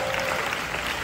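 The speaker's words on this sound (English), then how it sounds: "Keep clapping for them." An audience keeps clapping in a steady, continuous wash of applause, brief and fairly even, with no voices standing out.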